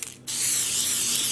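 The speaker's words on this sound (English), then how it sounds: "I'm gonna keep sort of moving the yarn around and spray painting it." A can of Wilton Color Mist metallic food spray bursts on and hisses continuously and loudly at close range as it coats yarn.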